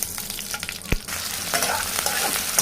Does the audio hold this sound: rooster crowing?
no